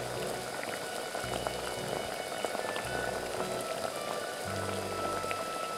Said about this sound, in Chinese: 现在大火已经煮开了